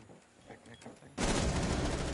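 Gunfire erupts in a Rainbow Six Siege ranked match, a quiet stretch of faint game sounds suddenly giving way to a loud, dense burst of shots that continues to the end.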